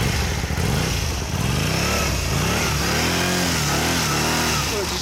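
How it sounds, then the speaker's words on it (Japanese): A stock 2007 Kawasaki 250 motorcycle engine revs up close, its pitch rising and falling in several repeated throttle blips over a steady idle rumble. "エンジン音聞かせてもらえる。"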